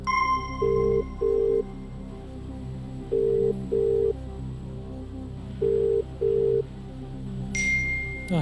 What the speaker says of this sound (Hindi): कंप्यूटर महाशय, लेफ्टिनेंट कर्नल अक्षत उपाध्याय जी को फोन लगाया जाए